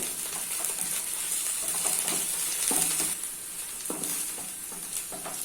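Onions, chopped green chili and ginger garlic paste fry and sizzle steadily in a pan for a goat head curry, with a utensil stirring and scraping through the mix in repeated strokes, close and fairly loud, no voices.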